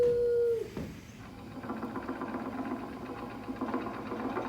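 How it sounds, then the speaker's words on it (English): An old 1920s exercise machine running in a Disney show: a steady mechanical whirring and rattling hum that continues after a brief tonal sound at the start, moderately loud, with no voices over it. "using that old exercise machine she rescued from the attic"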